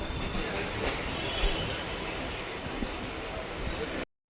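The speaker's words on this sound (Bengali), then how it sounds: "কলকাতা সার্কুলার লাইনে ট্রেন অনেকটাই আস্তে আস্তে যায়।" A local train on Kolkata's Circular line rolls along slowly, giving a steady, moderately loud rumble with faint wheel clatter and occasional light knocks. It is heard from on board, with no clear speech.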